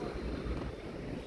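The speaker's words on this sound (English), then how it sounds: "It's a bit windy here, isn't it?" Wind gusting across the microphone outdoors near the Tower of London on an October day, a steady low buffeting roar without talk.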